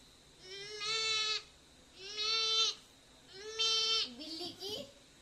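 A young boy imitates a goat, giving three drawn-out, nasal bleats with short pauses between them and a shorter wavering bleat at the end, close and clear against a quiet room.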